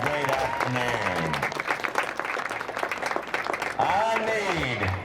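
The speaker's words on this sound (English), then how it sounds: "Round of applause for a great afternoon." Rodeo crowd applauding at the finale of a ranch bronc riding memorial event, steady clapping and cheering throughout while an announcer's amplified voice talks over it.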